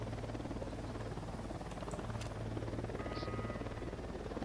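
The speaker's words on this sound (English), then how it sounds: "Helicopter incoming." A helicopter in the video game Ghost Recon Wildlands drones steadily with a low rotor thrum throughout, loud and continuous, with faint game sounds over it.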